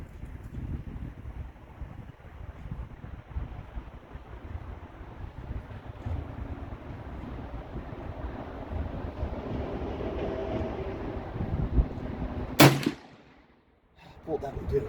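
A Marlin 336 rifle fires a single .35 Remington reload, one sharp, loud crack near the end after a long stretch of steady outdoor wind rumble, followed by brief quiet.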